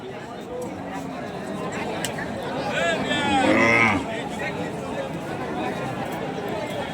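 A cow at a cattle market, a large-framed, double-bodied, bony gabi cow about six teeth in age, gives one drawn-out moo near the middle, rising above steady crowd chatter and market noise.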